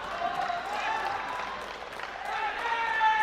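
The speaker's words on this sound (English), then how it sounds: "The audience cheering on their supporters, cheering on their teams" Spectators in an arena at the ABU Robocon 2023 robotics final in India clap and cheer for their teams in a sustained, moderately loud crowd roar, with whistles and shouts rising and falling throughout.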